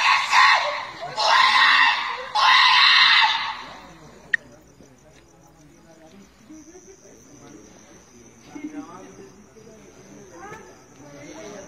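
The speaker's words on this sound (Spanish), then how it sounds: "Déjelo ahí grabando para que grabe el grito también" Three loud, drawn-out screams ring out in the opening seconds during a reported paranormal manifestation, then stop abruptly, leaving a quiet room with faint murmuring voices and a thin high whine.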